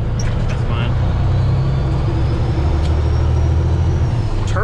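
Loud, steady drone of a semi truck's idling diesel engine up close, with a faint rising turbo whistle running over the low rumble throughout.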